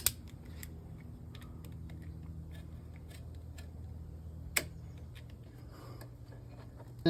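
A Mazda Miata power steering line is cut with a hand tool: a few quiet, sharp snipping clicks, spaced apart over faint background noise, with a louder cut near the end.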